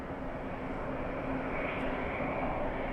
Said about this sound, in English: Two legendary quad jets taxiing in front of LA flights right now.